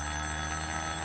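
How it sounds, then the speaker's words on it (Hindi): A telephone rings with an incoming call in a film scene, a loud, steady electronic ring filling the brief moment with no voices. "ओफो, मेरे पति का फोन है।"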